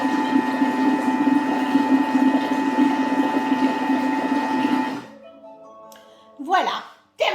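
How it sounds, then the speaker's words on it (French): A Thermomix food processor running while cooking a butter-free béchamel sauce, a steady motor hum with a tonal whine for five seconds, then stopping, followed by a few short beeps and brief talk. "il va falloir au Thermomix un petit peu plus de temps puisqu'il a plus de matière"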